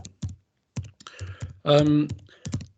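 Short bursts of key clicks from someone typing on a computer keyboard into the chat of a virtual council meeting, irregular taps separated by pauses, with a brief murmur of voice in the middle.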